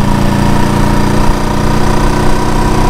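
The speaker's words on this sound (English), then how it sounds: "today's bike is 1972 Honda CB350." A 1972 Honda CB350 motorcycle engine running steadily at idle, loud and close, with an even, continuous throb and no talking.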